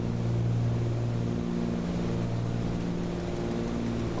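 An aircraft engine in Microsoft Flight Simulator runs as a steady, fairly quiet, droning hum with a constant tone and no speech over it.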